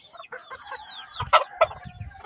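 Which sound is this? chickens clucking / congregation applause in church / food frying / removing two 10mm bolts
chickens clucking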